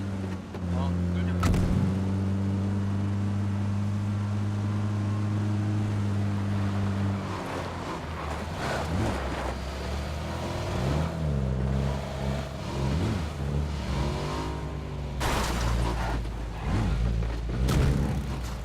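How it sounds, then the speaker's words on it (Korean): A motorcycle engine in PUBG buzzes and revs with rising and falling pitch, close and fairly loud, while players talk over it at times. "오토바이 소리"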